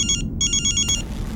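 A telephone rings with an electronic ringtone: two quick bursts of bright trilling, separated by a short gap, then it cuts off. The ringing is loud and close, with no talking.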